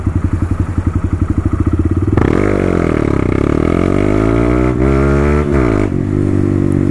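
Honda MSX Grom motorcycle with a TYGA full stainless race exhaust and carbon can, doing a launch: loud close popping idle pulses that swell into a harsh rev, with pitch rising and dipping as the engine is held high.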